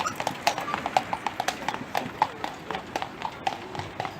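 Horses' hooves clip-clop steadily on pavement during a guided walking tour in Krakow near Wawel hill, a brisk, regular rhythm of hard hoof strikes at moderate distance amid faint background voices.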